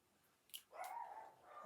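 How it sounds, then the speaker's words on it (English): A dog barks once or twice at a distance outdoors, a short sharp yelp followed by a drawn-out, whining bark, fairly faint with no talking over it. "Well, that's my dog's barking."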